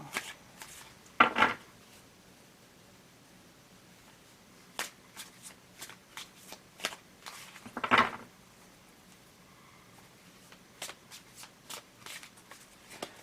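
A deck of tarot cards is shuffled twice in riffling bursts near the start and middle, with scattered light card taps and flicks in between, close and moderately loud, no talking.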